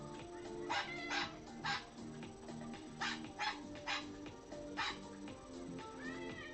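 A pet bird imitating a dog, giving a series of short, sharp bark-like yips in irregular bursts, fairly faint and close, with no one talking.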